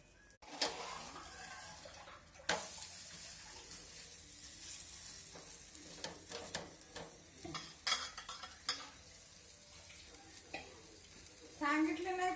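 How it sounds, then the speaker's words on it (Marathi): A spiced masala paratha roasts to golden on a hot pan, with soft frying sizzle, stirring scrapes and occasional clinks of utensils against cookware, close and fairly quiet. "ह्याला आपण गोल्डन कलर उस्तर भाजून घेऊयात."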